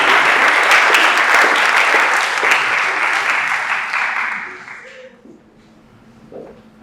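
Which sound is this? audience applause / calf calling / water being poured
audience applause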